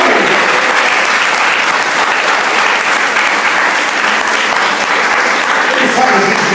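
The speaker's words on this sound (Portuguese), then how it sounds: "Um aplauso a Jesus." A church congregation bursts into loud, sustained applause during a worship service, thick continuous clapping that fills the space close by, with voices mixed into the crowd noise.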